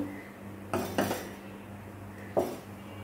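Fried semai vermicelli being tipped out of a pan, heard as three distinct metallic scrapes and clinks of utensil against pan over a low steady hum, with no talking.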